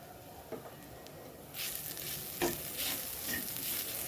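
Pav bhaji masala fries in butter in a pan, a quiet start giving way after a moment to a steady, close sizzle with soft stirring scrapes and no voices.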